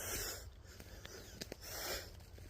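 Laboured, wheezy breathing from one person, close and quiet, with rasping inhales and exhales in a slow uneven rhythm, no talking.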